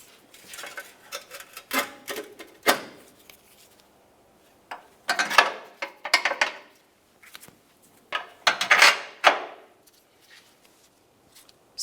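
Crossmember mounting nuts being tightened on a 2000-2006 Chevrolet Tahoe during a catalytic converter replacement, scattered ratcheting and metallic clatter in short bursts with quiet gaps, close and moderately loud.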